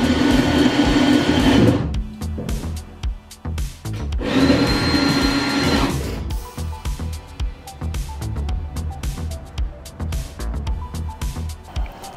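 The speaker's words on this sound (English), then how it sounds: "I will drill through the holes on the inside of the door" A power drill bores holes through the inside of a BMW E28 car door during damage repair, two loud whining bursts of a few seconds each, followed by quieter clattering and handling of metal.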